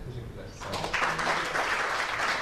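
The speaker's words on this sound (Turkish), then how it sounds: "Alkışlıyoruz kendisini." After a brief spoken thank-you, an audience at a short film festival bursts into applause for an award winner. The clapping swells quickly and stays full and steady, with some voices beneath it.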